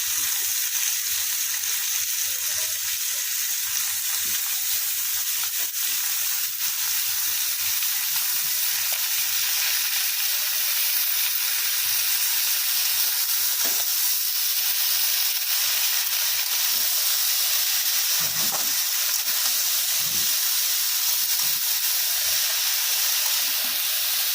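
Spinach leaves tossed into a pan of frying prawns sizzle in a steady, loud hiss that runs unbroken throughout, with faint stirring clicks scattered underneath and no voices.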